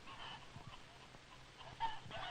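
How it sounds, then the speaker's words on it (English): Rooster on a poultry farm, clucking softly in short broken calls with a louder burst near the end, set against a low background hum. "The father chicken, the rooster."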